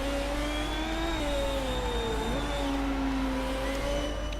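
A Formula 1 car on its exit lap in F1 2017 at the Doha Grand Prix qualifying hums at a steady mid-pitched engine note, dipping briefly around a corner before rising again, continuous and alone without speech.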